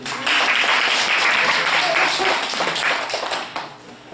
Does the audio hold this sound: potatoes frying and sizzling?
no